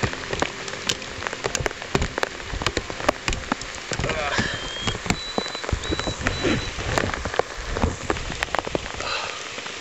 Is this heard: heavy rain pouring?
yes